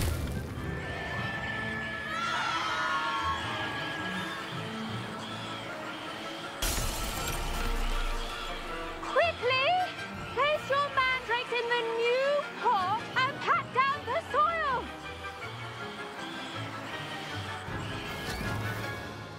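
A mandrake is yanked from its pot in a Hogwarts Legacy herbology class, letting out loud, shrill, wavering shrieks in a rapid burst of repeated cries over a busy game soundscape.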